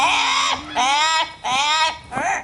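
A trained bird at a zoo bird show belts out loud, honking, warbling calls in three drawn-out phrases with short breaks, close and harsh-toned, like a parrot attempting a song.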